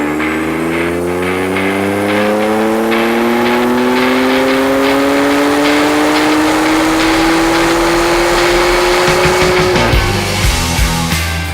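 An all-wheel-drive Dynojet dynamometer with an eddy current brake, a car engine on the rollers climbing steadily through the revs in one long loud pull, then dropping off near the end.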